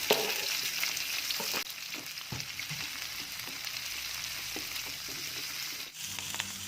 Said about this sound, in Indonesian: Kemudian masukkan cabai rawit, tumis sebentar.